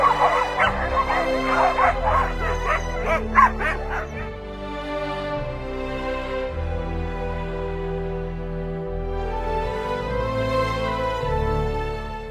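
Sled dogs at a mushing site in the Vercors barking, yipping and whimpering eagerly, a loud continuous chorus of excited canine cries close by.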